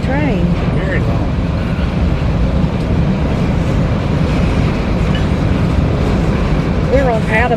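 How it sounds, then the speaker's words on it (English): A very long freight train of mostly empty cars rolls steadily past on a Florida line near rail offices, its constant loud rumble and clatter filling the scene with occasional wheel squeals while people talk nearby. "Pretty long train. Very long."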